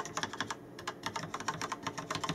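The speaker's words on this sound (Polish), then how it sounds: "możecie posłuchać, jak te przełączniki typu Yellow się zachowują" Rapid typing on a Rapoo V700 mechanical keyboard with yellow switches produces a dense run of crisp, fairly quiet key clicks close to the microphone.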